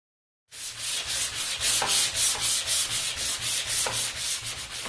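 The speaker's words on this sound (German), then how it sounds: "Die Leimreste können wir wegschleifen." Sandpaper rubs glue residue off a wooden cajon kit, working along the grain in steady, rhythmic back-and-forth strokes that make a loud, close, continuous rasp with a pulsing beat.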